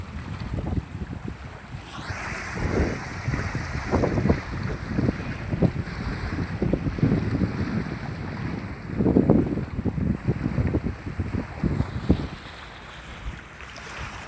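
Gusty wind buffets the microphone outdoors by the Godavari River near the Rajahmundry bridge, with low rumbling swells rising and falling; no one speaks.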